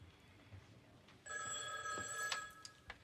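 An indoor telephone in a sitcom home starts ringing partway through, a bright electronic trill with a short burst and a couple of faint clicks, close but modest in level, with no speech over it.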